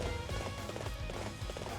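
Horse hooves galloping in the video game Hyrule Warriors, a steady run of clip-clop beats under game music, fairly quiet throughout.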